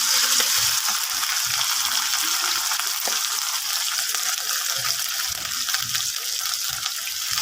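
A steady, close sizzle of ginger garlic paste frying in hot oil, crackling continuously without pause and fairly loud throughout.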